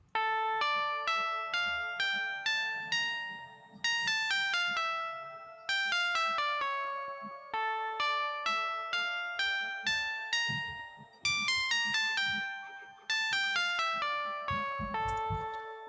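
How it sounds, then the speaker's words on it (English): Synth melody from the Pigment VST with bright, bell-like plucked notes that decay quickly, played in repeating phrases over about sixteen seconds, with soft low thumps underneath in places. "I'm going to play the first Pigment sound here"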